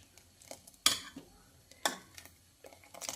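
A spoon scrapes and clinks against a pot as milk is stirred for rice kheer, giving a few sharp metallic knocks and soft scraping strokes, close and fairly quiet, at an irregular pace.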